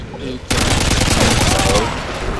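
Heavy gunfire in the video game Modern Warfare 2 breaks out suddenly as a loud, sustained volley of rapid shots, close, with game effects layered underneath.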